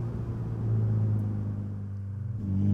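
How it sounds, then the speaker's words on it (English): A tuned VW Golf R with a 2-liter turbo engine, 325 hp, giving a close, loud, steady low drone with a slight swell in revs. "A 2-liter turbo has never sounded so good."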